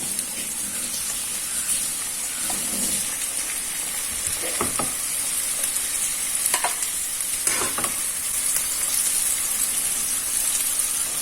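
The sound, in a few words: frying in oil for chicken molee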